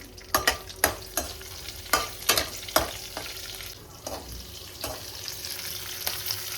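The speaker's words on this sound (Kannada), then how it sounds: "ನಾನು ದೊಡ್ಡದಾಗಿರೋ ಚಿಲ್ಲೀಸ್ 1-3 ಕಟ್ ಮಾಡಿ ಇಟ್ಕೊಂಡಿದ್ದೀನಿ, ಅದನ್ನು ಹಾಕ್ತಾ ಇದ್ದೀನಿ" Cut chilies go into a hot pan for mushroom fried rice and fry with a steady sizzle, punctuated by repeated sharp scraping taps of a spatula stirring against the pan, close and clear.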